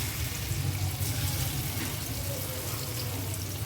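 Dhoka, Bengali lentil cakes, fry in hot oil in a pan over reduced gas flame, giving a steady loud hissing sizzle with a low bubbling undertone throughout.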